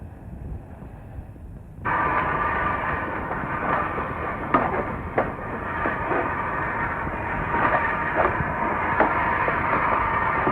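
A train at a railway station, from a 1967 Bengali film, rumbles loudly and continuously after a sudden onset, with clanks and knocks of carriages breaking through the steady roar.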